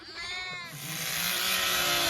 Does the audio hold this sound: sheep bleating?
yes